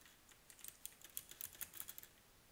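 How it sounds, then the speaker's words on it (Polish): Rapid clicky keystrokes rattle on a loud computer keyboard, coming in irregular bursts and clusters that are close and crisp, with no voice over them. "Wiem, słuchać moją klawiaturę. Mam inną klawiaturę, jeszcze głośniejszą."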